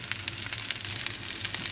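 Aloo tikki potato kebab cutlets frying in hot oil in a pan, a steady close crackling sizzle with dense popping, heard alone.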